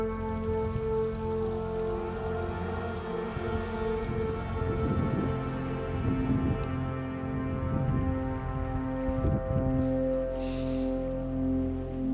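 Steady heavy rain pours down at a mountain camp, a dense broadband hiss with scattered heavier patters, close and fairly loud throughout.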